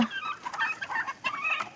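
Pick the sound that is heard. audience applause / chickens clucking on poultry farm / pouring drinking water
chickens clucking on poultry farm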